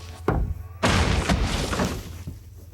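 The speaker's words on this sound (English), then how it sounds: "When you whack Terry's chocolate orange," A Terry's chocolate orange is whacked against a hard surface, giving a sharp thud followed by a heavier cracking smash with a brief rattle of breaking segments, loud and close.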